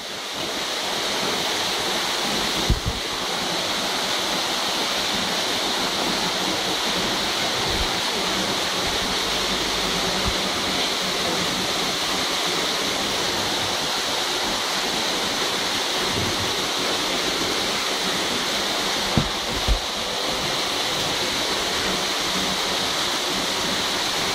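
Broad, steady roar of a big waterfall in botanical gardens at Ventnor on the Isle of Wight, continuous rushing water filling the scene with a couple of faint knocks in between.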